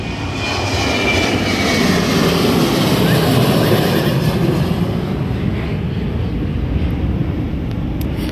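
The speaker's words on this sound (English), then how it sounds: "plane!" A loud airplane roars overhead near Montego Bay, Jamaica, its broad engine rumble holding steady and close throughout before easing slightly toward the end.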